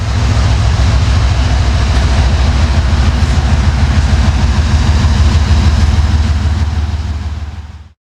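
A freight train rolls steadily into Yeoman Yard in Central Florida, a loud continuous rumble of wheels and heavy engine drone close by that holds for several seconds, then fades sharply at the end.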